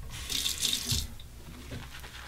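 A thin stream of tap water runs briefly into a wet shaving brush at a bathroom sink, a soft hiss for about a second, then it stops and leaves faint handling noise.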